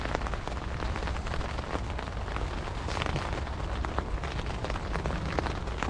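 A spring rain shower pours down on a fishing bank, a dense, steady patter of drops hitting nearby surfaces without a break.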